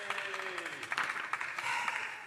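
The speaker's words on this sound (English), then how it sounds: "If we could have a round of applause," Applause rises in the House of Commons chamber during a sitting, a dense patter of clapping from many members running under a voice that speaks over it at the start.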